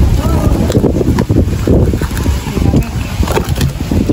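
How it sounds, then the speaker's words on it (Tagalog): Strong, gusty wind buffets the microphone with a loud, continuous roar and uneven rumbling surges throughout. "Milot, malakas ang hangin."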